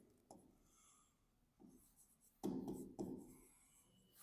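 Chalk or marker writing on a board during a Class 11 accounts lesson, a few short scratchy strokes with quiet gaps between them, the louder strokes in the second half, close by and with no talk.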